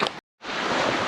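Waves break against the rocks on a Canadian beach with a lighthouse across the water, a loud broad wash of surf that cuts out briefly and then swells back steadily, with no voices.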